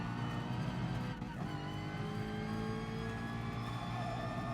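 A Ferrari race car engine in the GT Sport racing game holds a steady high whine with layered harmonics, loud and continuous, with a brief dip in pitch partway through and no talking.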